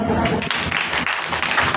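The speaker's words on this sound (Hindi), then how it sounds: "ताली बजा दो।" A congregation claps during a Hindi Christian sermon, a burst of scattered hand claps mixed with a voice talking over them.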